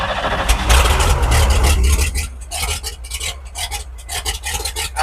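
A 1950 Chevy truck's engine cranks with a loud, rasping starter churn before settling into fast rhythmic pulsing, heard up close inside a hot shed with no talking.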